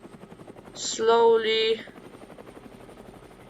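Helicopter flying in the video game Brick Rigs, a steady mechanical hum with rhythmic beating, while someone talks over it.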